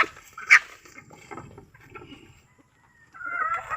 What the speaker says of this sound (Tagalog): Meron pang manok doon.